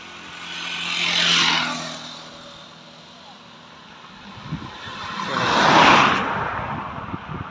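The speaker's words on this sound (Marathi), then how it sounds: "भरधाव वेगाने गाड्या येतात." Vehicles race past on a road one after another, two loud whooshing pass-bys rising and fading, the second closer and heavier, with engine rumble between them.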